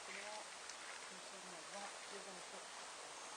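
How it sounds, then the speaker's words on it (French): Steady rain falls outside a cemetery in Mazan, a dense even wash of patter from nearby with no clear individual drops, while a voice talks faintly underneath. "Il pleut."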